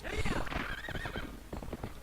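Horse hooves clip-clop as a horse whinnies loudly in a video game with a mounted rider, the neigh rising and falling over the first second before the hoofbeats continue close and steady.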